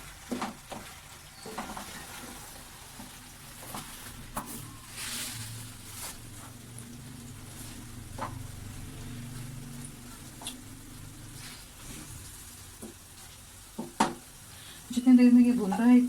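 Oil sizzles softly in a pan as ingredients for white chicken korma fry, a steady low crackle with occasional stirring clinks and a sharper sizzle burst near the end.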